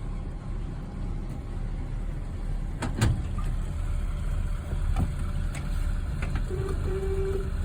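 A 1974 Dodge Tradesman 200 van with brand-new tires runs in gear, its engine a steady low rumble throughout, close by, with a few brief clunks and knocks and a faint voice briefly.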